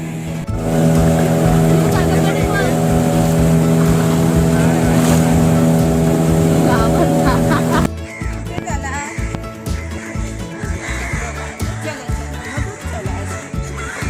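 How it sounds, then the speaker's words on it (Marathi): A motorboat ride near Sindhudurg fort, with a loud steady engine drone close by that drops to rougher engine and water noise partway through, and people talking over it. "आम्ही बोटीत बसले दोघीच जणी."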